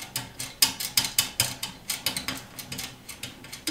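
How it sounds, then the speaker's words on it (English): Apartment heater in New York giving off a rapid series of loud metallic ticks and clanks, irregular and close, continuing for several seconds. "That's the fun part of New York heaters, is that you just never know what noise they're gonna make"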